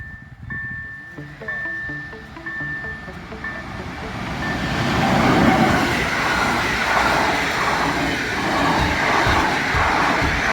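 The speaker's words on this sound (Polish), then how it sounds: "Jakiś nie wiem jaki pociąg." A train rumbles past close by at a level crossing in Zębice near Wrocław, running up to 160 km/h, a rising roar of wheels and rattling cars, preceded by a faint high tonal whine.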